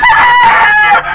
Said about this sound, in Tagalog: Napakagandang manok.